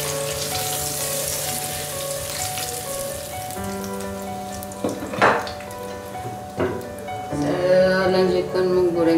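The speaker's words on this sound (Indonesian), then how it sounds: "Lanjutkan menggoreng ikan sebab suami saya tak makan daging." Fish frying in hot oil in a home kitchen gives a steady close sizzle and crackle, with a few pan and utensil clinks partway through.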